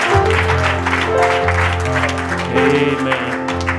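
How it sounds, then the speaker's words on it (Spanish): A church congregation claps loudly and steadily, dense applause close by with a low sustained musical tone underneath, no one speaking over it. "fuerte aplauso al Señor en esta noche, hermanos"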